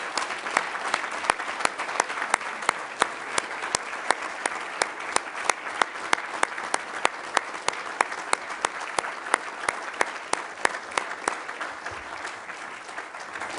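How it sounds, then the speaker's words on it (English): Applause for graduates at a ceremony for senior athletes, a sustained crowd of hands clapping steadily, full and even, with no speech over it. "Let's have a round of applause for our newest graduates."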